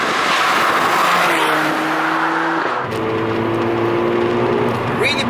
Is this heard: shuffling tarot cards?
no